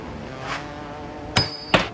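A hammer strikes a metal part on a homemade roof rack for a Suburban, two sharp ringing taps close together following a fainter knock.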